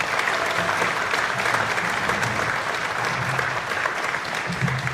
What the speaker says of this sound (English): So please give this orchestra another warm round of applause.